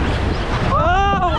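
A raft on the Wildalpenbahn water ride at the Wiener Prater in Vienna plunges down a drop, with loud rushing, splashing water under windy noise and excited shouts from riders.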